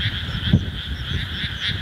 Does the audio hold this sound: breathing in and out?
no